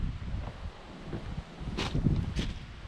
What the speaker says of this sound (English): This is some epic wind.